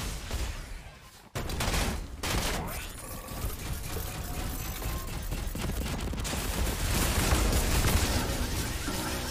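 Rapid gun and rocket fire rattle through a Fortnite fight, dense overlapping shots and blasts running almost without pause, loud throughout with a brief dip early on.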